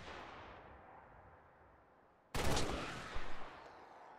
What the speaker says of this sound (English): God, it's so nice having an automatic rifle.